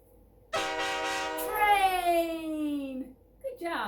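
A long, bright train horn toots, its pitch sliding slowly downward, then cuts off and is followed by a short burst of another tone.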